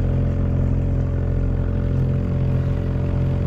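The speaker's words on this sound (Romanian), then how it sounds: "Între timp, vântul a căzut, nu mai bate absolut deloc, a trebuit să pornim motorul." Steady low rumble of a sailboat's small motor running continuously on the Black Sea, even and unbroken, with a faint mechanical clatter and no voices.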